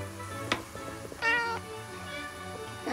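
Several cats meow close by in a kitchen as a tuna can is opened, a few short, high cries and one longer drawn-out meow, over a quiet background hum.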